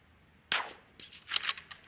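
Sharp .22LR rimfire shots fired at eggs outdoors: one loud crack, then a quieter report and a quick cluster of three or four close pops, with wind in the background.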